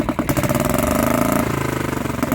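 A Barford Atom 30 walk-behind tractor engine runs steadily and is revved up, with a continuous mid-pitched motor drone that rises and settles, close and loud, with no voices.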